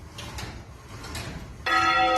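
A church bell in a bell tower strikes loudly and close in the final stretch, its bright ringing tone sustained, after a quieter stretch of faint mechanical clunks and room noise.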